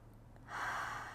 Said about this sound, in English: 2 big inhales and exhales. One more.